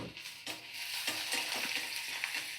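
Chopped onion and green chilli frying in a pan while being stirred, a soft continuous sizzle broken by several quick spatula scrapes against the pan, nearby and fairly quiet.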